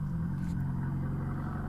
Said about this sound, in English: If you could drive your car a little quieter.